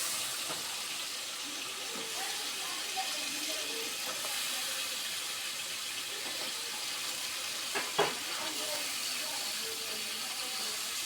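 Okra, pointed gourd and jackfruit seeds drop into hot oil and cooked spice paste and fry with a steady, hissing sizzle close by, along with a few scraping clicks of stirring near the middle and no talking.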